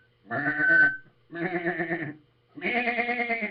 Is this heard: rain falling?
no